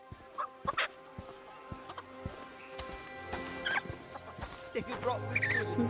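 Chicken clucking inside the Fable video game world, short bursts of squawks mixed with game effects, hoof-like clops and background music, with no speech.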